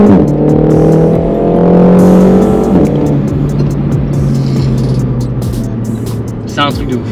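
A Renault Mégane 4 R.S. Trophy engine drones loudly from inside the cabin, its pitch rising then settling as it revs and shifts, with faint chatter and road noise.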